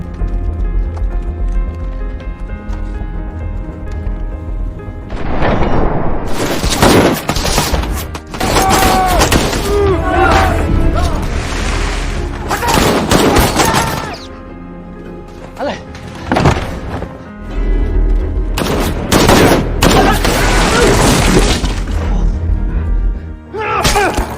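A film firefight scene carries loud, chaotic gunfire, with clusters of sharp shots and impacts in several dense bursts separated by brief calmer stretches.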